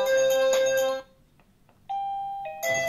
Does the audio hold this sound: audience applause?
no